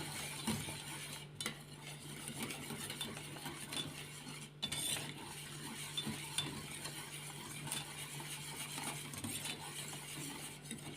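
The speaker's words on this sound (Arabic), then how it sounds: "غادي نزيد عليها هاد القطع ديال الشكلاط، نحرك" Chocolate pieces are stirred into a no-bake cake mixture in a bowl, giving a steady, continuous scraping and swirling texture that runs the whole time with a few brief pauses and no talking.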